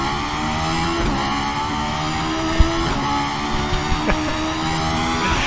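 A race car engine in RaceRoom Racing Experience, pulling hard up the Nordschleife with a loud, sustained, rising drone through the gears and no one speaking.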